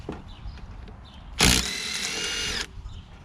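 A cordless drill runs in one loud burst of a bit over a second while removing cylinder head bolts from a Briggs 550EX engine on a Craftsman push lawnmower, with quieter handling noise before and after.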